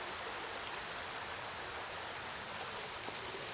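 Clark's Creek at the Appalachian Trail trailhead rushes steadily, a close, broadband wash of flowing water with no pauses.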